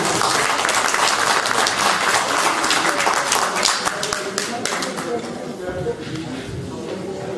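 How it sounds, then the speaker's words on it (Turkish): Applause from a gala audience as a poet is welcomed onstage at a Republic and Atatürk poetry evening, a dense, sustained wash of many hands clapping that slowly thins, with voices mixed in. "Alkış az mı oldu?"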